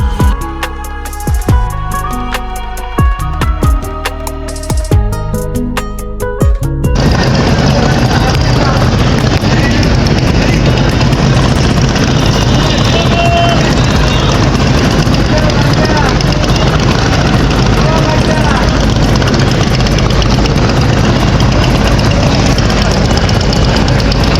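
Dense, loud engine rumble and constant river traffic noise at Sadarghat launch terminal in Dhaka, with boats and launches coming and going, steady after a brief stretch of music.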